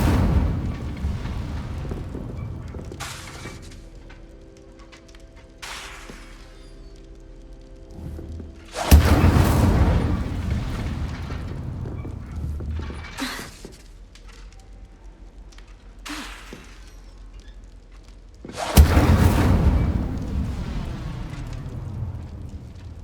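A fire spell cast in Hogwarts Legacy, heard as three loud whooshing fiery bursts spaced several seconds apart, each surging then fading into a low rumble with quieter crackles and thuds between.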